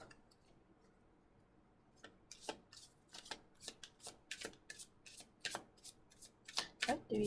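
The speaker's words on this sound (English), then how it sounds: "That was a very good shuffle" A deck of tarot cards is shuffled up close in sharp, rapid riffles and taps that start after a short quiet pause and grow louder toward the end.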